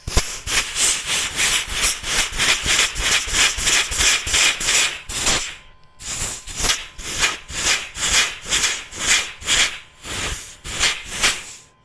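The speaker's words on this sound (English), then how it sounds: "I got my air pressure, my air gun, and that's the inlet for the brake right there." Air gun pushing the brake caliper pistons out on a 1963 Hillman Super Minx, a loud rhythmic hissing pulse of air repeating steadily, briefly pausing near the middle, then resuming with no voices.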